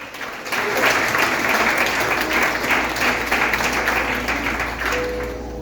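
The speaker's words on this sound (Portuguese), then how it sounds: "Aplauso eterno." Sustained applause from a church congregation, dense and steady clapping that carries on for several seconds before easing slightly at the end.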